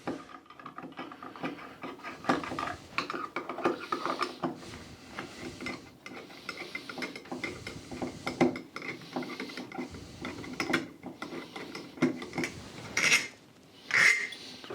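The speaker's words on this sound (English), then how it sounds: "Then you take these two screws off" Unscrewing the two long screws on a bathtub faucet cover during a bathtub replacement, with close, irregular squeaky metal turning and ratcheting scrapes throughout, plus a few sharper high squeals near the end.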